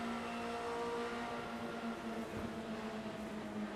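Formula Renault race cars roar together in a steady, high-pitched engine drone, one continuous loud whine with slight pitch wavering and no pause.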